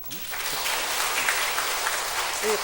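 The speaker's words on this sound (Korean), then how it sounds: "여러분 우리 집사님 박수 한번 쳐주세요." A church congregation claps during a Sunday worship service, a steady, even round of applause filling the room for a few seconds, with faint voices underneath.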